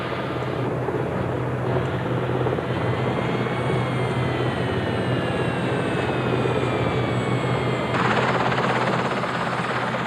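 A rescue helicopter coming in to land at the approved Aberdeen landing site, its rotor and engine drone loud and steady throughout, with a whine that shifts in pitch.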